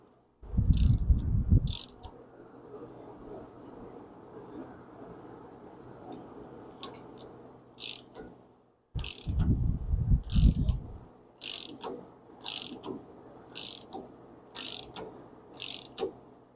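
Thread die turned by hand on the damaged threads of a CV axle, repeated sharp ratcheting clicks in spaced bursts with lower grinding rumbles between, close and fairly clear with no talk.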